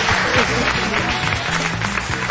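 Studio audience applause on a Turkish family television show as guests are welcomed to a table, dense continuous clapping that holds loud and even throughout, with music or murmur underneath.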